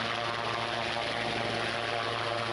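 A helicopter lifts off a helipad at Nilanga in Latur, its engine and rotor making a loud, steady drone with a humming low tone throughout, and no voices.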